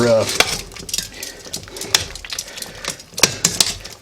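Chicken adobo flipped and mixed in a pan, giving loud, close clatter of a utensil scraping and knocking against the metal, in irregular bursts with sharp clinks throughout and no talk.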